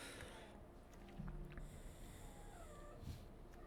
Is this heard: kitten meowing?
yes